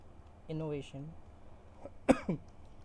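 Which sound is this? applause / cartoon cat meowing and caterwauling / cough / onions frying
cough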